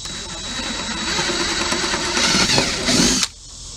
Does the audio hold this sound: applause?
no